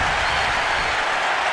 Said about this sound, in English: Crowd is on their feet here in Salt Lake City, Utah.